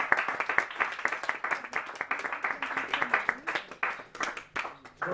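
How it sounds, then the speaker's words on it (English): A stand-up comedy audience claps in a loose, uneven burst of distinct handclaps, moderately loud and close, with a voice murmuring faintly beneath. "A round of applause,"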